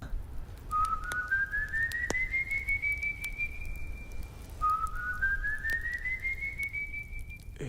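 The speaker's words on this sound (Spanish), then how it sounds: "fue un silbido cercano" Two long rising whistles from El Silbón, each sliding slowly upward and holding, with a pause between, set against a soft low rumbling background.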